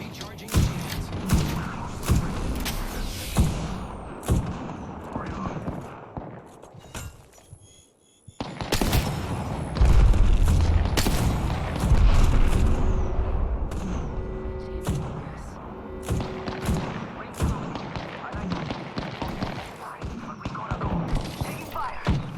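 Video game combat with dense bursts of gunfire and heavy thuds of explosions, some near and loud, continuing across the whole stretch with a short lull, while game voice callouts break in now and then.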